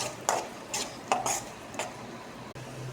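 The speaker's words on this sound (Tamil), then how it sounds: "நெக்ஸ்ட்டு வெங்காயம் போட்டுக்கலாம். நல்லா ஃப்ரை பண்ணிக்கலாம்." Onions are stirred in hot oil in a kadai for podi egg varuval: a few scraping, clinking strokes of a spoon against the pan over a faint, low sizzle.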